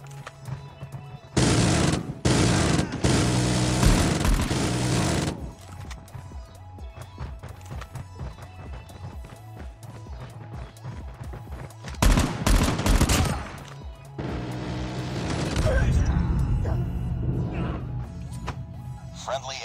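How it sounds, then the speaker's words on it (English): Automatic sentry gun fire in the mobile shooter Call of Duty Mobile, with loud bursts of rapid gunfire broken by quieter gaps and game sounds in between. "Friendly sentry gun deployed."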